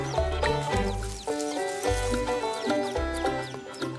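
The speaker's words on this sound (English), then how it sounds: "a mother hen is taking her brood for a foodies tour." Mother hen leading her brood of chicks while foraging for grubs, with repeated low clucks and overlapping chick peeps close by, steady and busy throughout without speech.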